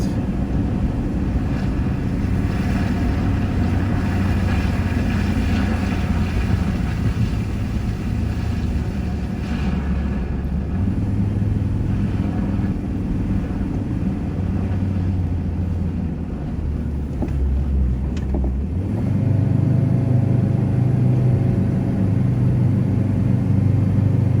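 A vehicle engine labours in second gear while driving on the sand of Ripiro Beach near Pouto, a steady low drone under wind buffeting the microphone, rising in pitch and loudness toward the end as it fights for traction.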